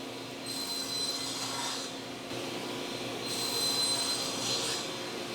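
Table saw cross-cutting a 2x4 on a sled, heard as two long, fairly faint whining cuts with a high ringing edge over a steady motor hum, no voices.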